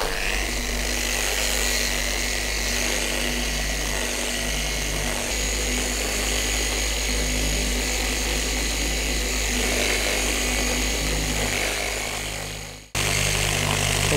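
Orbital polisher running steadily on the painted body of a Cadillac in a garage, a continuous loud motor whir with a constant tone that cuts off briefly near the end and then resumes.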